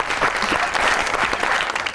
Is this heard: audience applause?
yes